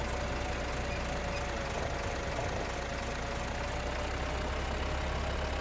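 A tractor engine idles in Farming Simulator 25, giving a steady, unbroken low drone with a faint mid-pitched hum, heard alone at an even level.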